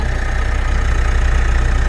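A steady 2018 Mitsubishi Triton 2.4 common-rail diesel pickup engine idle rumbles close by, low and even with a faint rhythmic knock, continuing without pause.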